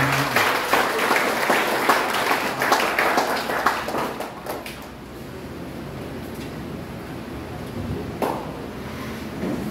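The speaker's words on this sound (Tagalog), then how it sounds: "Lahat ng naniniwala, pumalakpak." A church congregation applauding during a sermon, a burst of many hands clapping that gradually thins out and fades into room noise.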